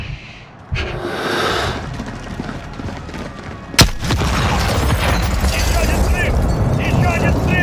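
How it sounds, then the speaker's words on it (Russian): Two sharp explosive booms in the video game Call of Duty: Modern Warfare (2019), one early and a louder one midway, followed by a sustained rumbling, crackling roar of combat noise. "Еще один взрыв!"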